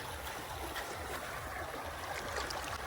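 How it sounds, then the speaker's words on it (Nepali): Stream water rushing near a bridge on the way to a waterfall; a continuous, fairly loud broadband flow with steady gurgling and no talking. "वाटर फ्लो यहाँ राम्रो देखिरहेको छ"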